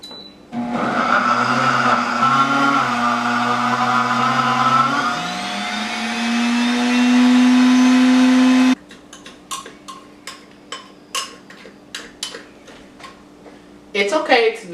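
Countertop blender running on low speed, mixing flour for pie dough into a sticky, pea-like crumb: a loud steady whirring drone that slows and shifts pitch, then cuts off, followed by a series of taps and knocks.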